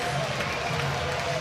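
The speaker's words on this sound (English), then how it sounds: "Nice ovation from the crowd" Ballpark crowd at an Orioles versus Twins baseball game giving a sustained ovation, a dense wash of applause and cheering at moderate volume with commentary voices faintly beneath.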